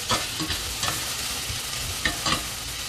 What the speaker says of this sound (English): saute the onions for a while.